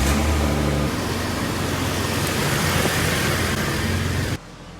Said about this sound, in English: what do you say we get this key in the ignition